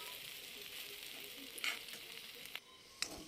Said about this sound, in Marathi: आता एखादा मिनटं तरी आपल्याला असा परतून घ्यायचा आहे.